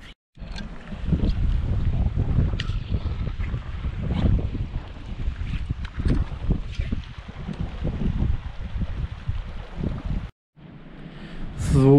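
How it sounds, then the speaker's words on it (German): Strong winter wind on a mountain ridge trail roars and buffets against the microphone in heavy gusts, cutting out briefly near the end before surging back. "Ich kann jetzt leider nicht genau rausgehen, weil es sehr, sehr windig geworden ist."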